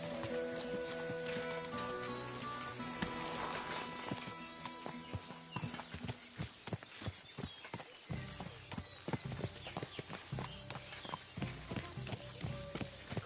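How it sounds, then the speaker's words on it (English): Horse hooves galloping in the video game Kingdom Come: Deliverance 2, a steady rapid clip-clop running throughout alongside game music, with an occasional whinny and brief voices nearby. "Watch out with that horse!"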